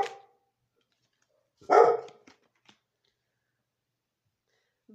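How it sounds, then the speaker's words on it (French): A female dog gives a single sharp indoors bark at close range, followed by a few faint clicks and near silence. "j'avais ma chienne qui aboyait"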